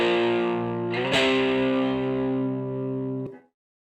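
Electric guitar chords played through a moderate distortion effect, a sustained strummed chord with a second strum near the middle, ringing loud and alone before cutting off abruptly at the end.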